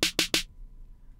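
A fat snare drum sample from an Ableton drum rack in an ambient trap beat, struck three times in quick succession, with bright, punchy hits and a short decay, alone.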